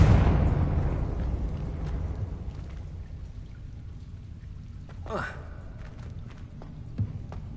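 A Confringo blasting curse explosion in Hogwarts Legacy: a loud, close blast at the start that decays into a long, fading rumble and debris hiss, followed by a brief swooshing spell sound and a few faint thuds.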